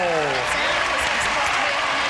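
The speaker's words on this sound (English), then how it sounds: "let's keep the applause going" Loud studio audience applause on a 1983 television game show, continuous crowd clapping with a voice speaking over it near the start.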